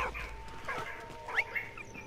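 A dog in the video game Valiant Hearts gives a few short barks and yips at moderate distance amid light game sounds.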